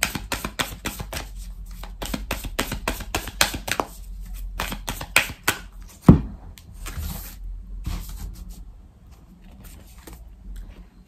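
Oracle cards being shuffled by hand in a quiet room, a rapid run of soft papery riffles and flicks close up, then a sharp tap and a few slower handling sounds as the deck settles, no talking.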